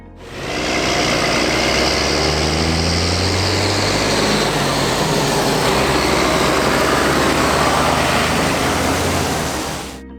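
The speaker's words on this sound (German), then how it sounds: "Im Gegensatz zu den neueren 6R-Traktoren konnte man diesen John Deere bereits von weitem hören." A John Deere 7810 tractor engine drones steadily from a distance, a loud continuous broadband rumble with a low tonal hum that holds for about ten seconds without speech.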